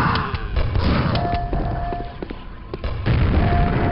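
A grenade bursts in the Quake VR shooter, loud thudding blasts and booms around a noisy game scene, with a deep impact near the end and some metallic tones between.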